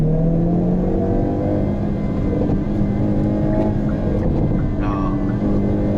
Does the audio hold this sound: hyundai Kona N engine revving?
yes